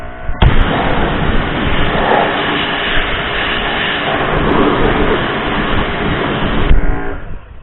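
A Surfacemaxx Pro Wand rotary concrete cleaner blasting pressurized water at wheels gives a loud, continuous, harsh roar that starts and stops abruptly and holds steady for about six seconds, close up.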